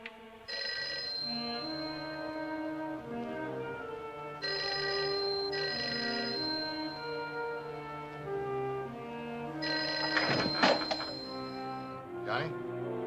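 A 1950s telephone rings unanswered in repeated bursts of bright bell tone, with a soft thunk and some clatter near the end.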